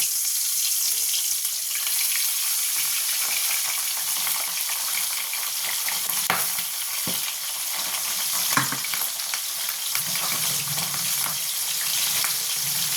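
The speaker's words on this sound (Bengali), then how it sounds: "এরপর আমি মাছ ভাজার জন্য দিয়ে দেবো।" Pabda fish fries in hot oil with a steady, close crackling sizzle throughout, broken by a few sharper pops and spatters of oil.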